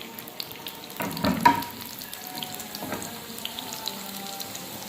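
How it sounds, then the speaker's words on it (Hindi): Sliced onion drops into hot oil in a pan, giving a short burst of sizzling and crackle near the start, then a softer, steady fry with occasional light pops. "इसको हीट करने के बाद मैं 2 to 3 टेबल स्पून ऑयल के ऐड डालूँगी, और फिर इस प्याज को"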